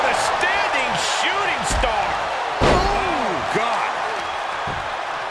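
Heavy shoulder slams in a tag-team wrestling match between the Kabuki Warriors and Bianca Belair with Michin land as sharp thuds on the ring canvas, two standing out above steady crowd roar and commentary.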